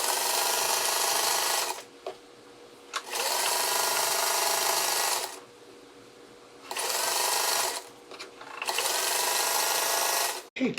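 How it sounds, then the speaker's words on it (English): A sewing machine stitches a quarter-inch seam in three long bursts of fast, even whirring, separated by short pauses, close and loud with no talk. "so now we're going to sew this with a 1/4 inch seam"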